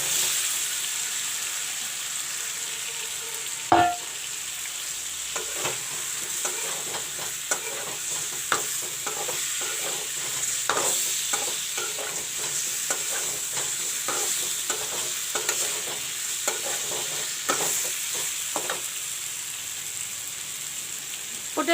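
Pumpkin and potato pieces frying in spiced masala for a pumpkin potato curry, a steady close sizzle broken by frequent sharp scrapes and clinks of stirring throughout, with no talking.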